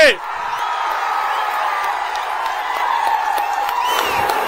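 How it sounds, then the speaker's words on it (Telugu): A large crowd at a political rally claps and cheers, a dense roar of applause and shouts with whoops throughout, loud and sustained, with voices mixed in. "గట్టిగా చప్పట్లు కూడా చెప్పండి"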